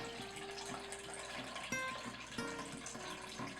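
Cold brew coffee pours steadily into a paper filter over a bowl with a trickling, splashing sound, a couple of brief clinks breaking in midway.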